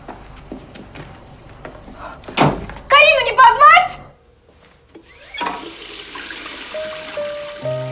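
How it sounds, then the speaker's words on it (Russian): Shower water runs in a home bathroom, starting partway through as a steady, close hiss that continues to the end, after earlier voices, a sharp thump and a short burst of laughter-like sound. "Я душ могу принять."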